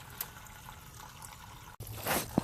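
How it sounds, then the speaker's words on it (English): Gasoline pours and trickles out of the removed gas tank of a 1988 GMC Sierra pickup truck, a soft continuous liquid stream close by, swelling into a louder splash near the end. "as he's pouring out the gas"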